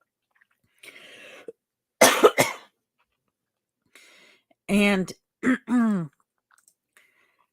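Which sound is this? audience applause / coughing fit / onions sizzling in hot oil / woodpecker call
coughing fit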